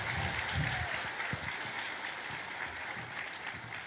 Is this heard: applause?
yes